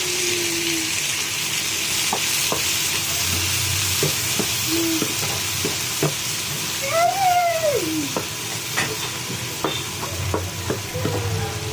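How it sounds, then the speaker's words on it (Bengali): Onions and tomatoes fry in a pan with a steady sizzle, intermittent spoon clinks and stirring scrapes, plus a brief warbling tone partway through. "পেঁয়াজগুলা লাল হয়ে গেছে, এখন টমেটো দিয়ে দিব।"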